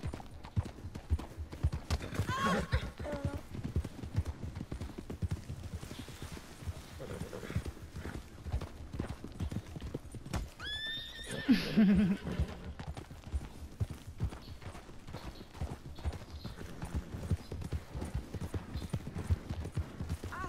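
Continuous clip-clopping hooves at a steady trot, with a couple of sharp horse whinnies partway through, over a low ambient background, in the video game Red Dead Redemption 2.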